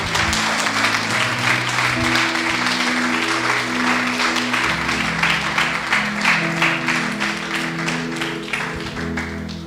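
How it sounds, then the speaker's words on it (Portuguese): A church congregation bursts into sustained applause, loud and steady clapping from many hands that gradually tapers toward the end, with low musical tones sounding underneath. "Você pode aplaudir ao Senhor?"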